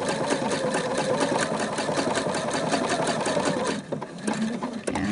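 A sewing machine stitches a patch along the edge of a trouser leg, running in a fast steady mechanical chatter that stops briefly near the end before resuming, heard alone at close range.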